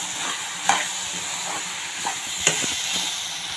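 Upma ingredients sizzle and fry in a pan with salt and turmeric, a steady close hiss broken by a few clinking scrapes of a spoon stirring, with no talk.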